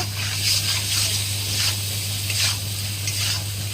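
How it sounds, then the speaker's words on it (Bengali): Fish with green chillies sautéing in an oily pan, a steady close sizzle with rhythmic bursts of stirring scrapes about every second, over a constant low electrical hum. "দেখেছো মাছটা কি সুন্দর মা কষিয়ে নিচ্ছে"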